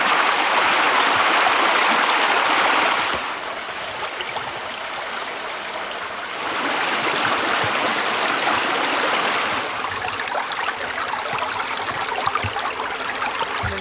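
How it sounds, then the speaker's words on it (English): A small year-round creek runs beside a cabin in the woods, its steady broadband rush of flowing water close and continuous, swelling and easing in level over the stretch. "our little cabin in the woods is built next to a small creek"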